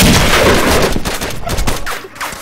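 Several loud gunshots ring out in the DayZ Standalone video game, a dense burst of sharp cracks early on followed by a few separate shots, with no talk over them.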